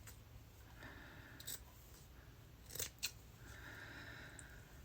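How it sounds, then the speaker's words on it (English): Scissors snip off the edges of a handmade tag pouch in a quiet room, with a few short, crisp cuts in separate bursts close to the mic. "I cut the edges off."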